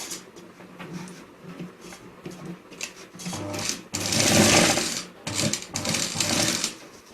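A sewing machine stitching fabric for a clutch bag runs in bursts, rattling rhythmically and close, louder in the middle stretch, then pausing and restarting.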